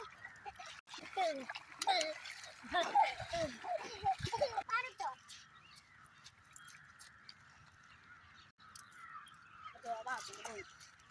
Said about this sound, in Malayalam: ഞങ്ങളിപ്പോ വെള്ളത്തിൽ കളിക്കാണ്.